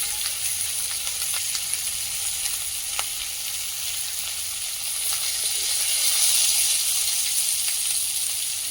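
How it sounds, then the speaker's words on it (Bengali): Spice paste with onion, bay leaf and green chili frying in a pan, a steady close sizzle with faint stirring scrapes, fairly even throughout and swelling slightly near the end, with no voices. "আদা রসুন বাটা, লবণ আর হলুদ দিয়ে মশলাটা ভেজে নেব।"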